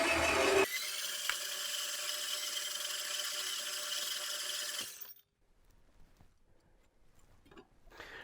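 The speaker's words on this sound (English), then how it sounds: "I can lock in my vise, turn on my saw, and make a cut." A power saw runs steadily as it cuts material clamped in a vise, a loud broadband whine lasting about five seconds before cutting off abruptly into near silence with faint handling noises.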